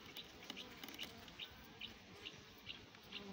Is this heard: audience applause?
no